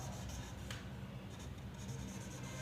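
Marker or chalk scratching steadily across a classroom board, a continuous quiet rubbing with no voices.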